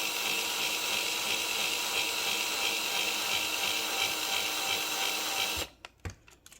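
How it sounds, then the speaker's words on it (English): A power drill grinds steadily at close range for several seconds, drilling through a thick scallop seashell, then cuts off, followed by a few faint clicks and knocks. "you can use the drill on the thicker shells"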